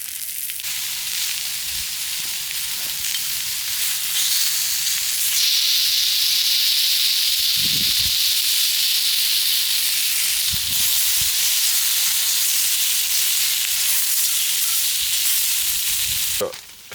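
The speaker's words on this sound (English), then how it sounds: "we're basically ready to chuck the bacon in" Bacon sizzles in a pan over a camp stove at a roof-top-tent campsite, a steady loud frying hiss running throughout with a few brief stirring knocks and scrapes.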